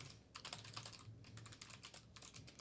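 Rapid typing on a computer keyboard: a steady patter of quiet key clicks in bursts, with a low hum underneath and no talking.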